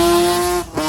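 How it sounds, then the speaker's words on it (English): A rotary-engined car at a drag racing event screams past with a loud, steady high-pitched engine note that dips briefly near the end, then picks up again, heard up close without any voices. "one of my favourite events was the drag racing."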